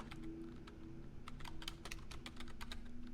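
Fast, uneven keystrokes on a computer keyboard as a title is typed, clustering into quick bursts of crisp clicks over quiet room noise, close by with no talking.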